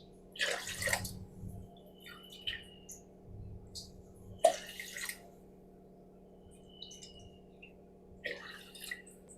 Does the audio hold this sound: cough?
no